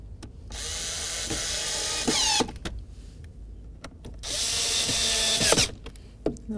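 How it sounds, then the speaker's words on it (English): A Phillips screwdriver drives screws into an interior panel of a 2013-2018 Toyota RAV4, making two long bursts of close squeaky grinding with scattered sharp clicks and knocks between them. "Just get my Phillips screwdriver and put them on in."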